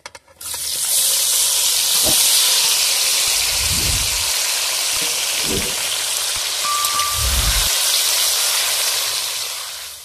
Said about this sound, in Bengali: তেলটা ভালো করে গরম হয়ে গেছে। এবারে আমি আমটা ভেজে নেব ভালো করে।